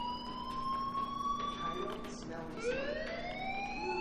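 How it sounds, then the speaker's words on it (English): A fire alarm wailing in the video game Life is Strange, a siren-like rising and falling tone heard faintly and steadily, with no speech over it. "do you hear that fire alarm?"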